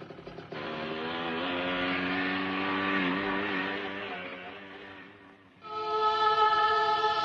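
A motorbike engine revs with rising and falling harmonic drone, then cuts briefly before a louder, higher burst as it pulls away; no voices.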